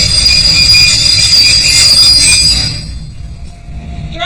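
A train runs on rails with a loud, sustained metallic squeal from its wheels. The squeal fades out partway through, leaving a steady rolling rumble close by.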